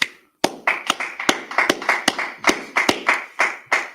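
Hands clap in a loose, uneven rhythm, about fifteen sharp close claps spread over a few seconds after a brief silence, each with a short ringing tail, no talking.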